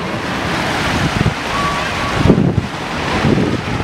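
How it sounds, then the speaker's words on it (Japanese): Ocean waves at a beach in Cancún, Mexico, a steady broadband wash with soft swells, mixed with wind buffeting the microphone, heard close and alone. "めっちゃ海やん。"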